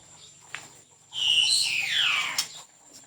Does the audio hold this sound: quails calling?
yes